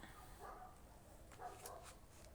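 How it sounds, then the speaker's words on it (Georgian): Village dogs bark faintly in the distance, a few short barks heard over quiet outdoor ambience. "ზოგი ძაღლები ყებენ"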